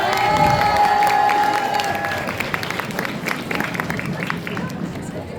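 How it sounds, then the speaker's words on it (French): Audience at a cosplay competition stage show breaking into applause and cheering, a dense wash of clapping and crowd noise that starts loud and gradually thins out. "Applaudissez-les quand même."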